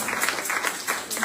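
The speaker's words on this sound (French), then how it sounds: "Applaudissements pour le Seigneur." Church congregation clapping at a Sunday worship service, dense rhythmic applause in short repeated bursts, fairly loud and close.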